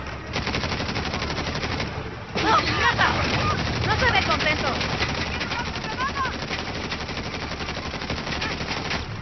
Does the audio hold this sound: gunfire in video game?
yes